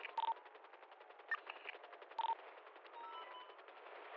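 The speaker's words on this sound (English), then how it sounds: "Opening fire on officers." Automatic gunfire rings out at police officers during a GTA V roleplay chase on the NoPixel server, in a few sharp bursts over quiet game ambience.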